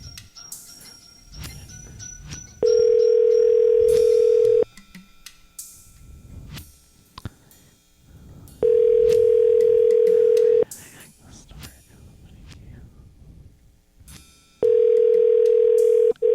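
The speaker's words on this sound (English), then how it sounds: "At least on this one, you can hear it ring." A steady ringback tone on a phone line sounds in three long bursts, a few seconds each, with quieter background noise and faint voices between rings.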